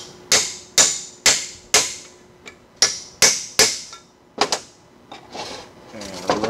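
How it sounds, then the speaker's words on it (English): Aluminum dowel hammered against front suspension parts of a 1986 Porsche 944 Turbo being disassembled: a run of about nine sharp, close metallic knocks at a steady rhythm, followed by a few softer scraping and shuffling sounds, with no talk. "I can knock these off without damaging them with this aluminum dowel"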